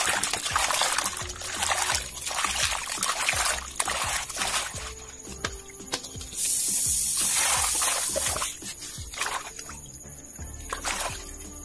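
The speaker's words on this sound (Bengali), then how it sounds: "মাছগুলো এখন ধুয়ে নেব।" Cut chang fish are washed under water, with splashing, trickling and pouring in uneven bursts, close by, and clattering knocks against a bowl between the gushes. No one speaks.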